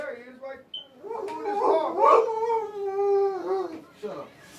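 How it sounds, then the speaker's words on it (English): A dog barks and howls outside beside a parked car, a yowling, whimpering bark heard close over a man's speech. "Oh, you got the nerve enough to bark."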